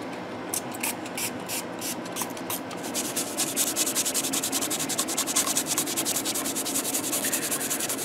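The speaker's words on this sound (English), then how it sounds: "let's get this fretboard cleaned up" Close, continuous scrubbing and rubbing on a guitar fretboard, settling into quick, regular back-and-forth strokes.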